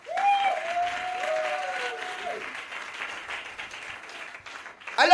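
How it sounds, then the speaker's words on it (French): A church congregation applauds loudly in a sustained wash of clapping, with a voice calling out over the start and the crowd noise gradually easing toward the end. "Je veux que tu acclames très fort."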